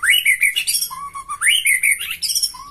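A white-rumped shama sings up close, pouring out loud, rapid whistled phrases and chirps that rise and fall in quick succession.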